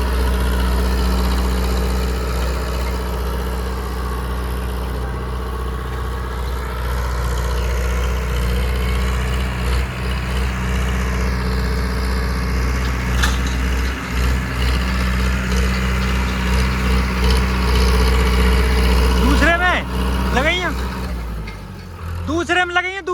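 Tractor engine pulling a Digitrac PP 46 harrow in second high gear, a steady loud low rumble running throughout, with someone talking over it.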